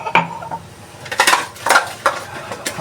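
Dishes and pots being washed at a kitchen sink, with a run of clattering clinks and knocks of metal and ceramic in quick irregular bursts, close and fairly loud.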